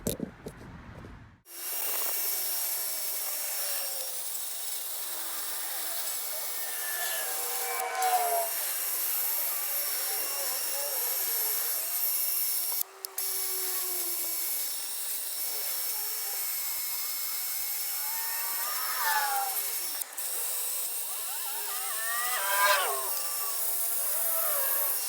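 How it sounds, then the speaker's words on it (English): Steady close-up hiss of sanding on car brake calipers before repainting, a continuous abrasive rasp with occasional strokes and brief pauses, running alone without talk. "So let's get to sanding."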